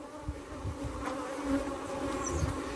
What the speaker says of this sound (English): Bees don't like you to bother them too much